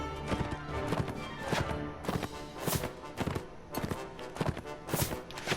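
Horse hooves clip-clop in a video game, a quick, steady run of hoofbeats close up that carries on through the whole stretch with no speech over it.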